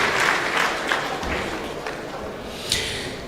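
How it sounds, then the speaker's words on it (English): Audience applause at a university medical laboratory induction and oath-taking ceremony, a steady round of clapping filling the room, with a couple of louder thumps near the end. "let us appreciate the representative of the registrar once again with a resounding round of applause"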